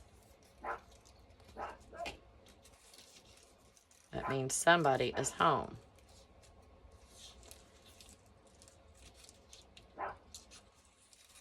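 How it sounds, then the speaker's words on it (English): A pet dog barks indoors at home: a few sharp single barks early on, then a loud burst of rapid barking in the middle, and another lone bark near the end, with a person speaking briefly. "And my dog is barking."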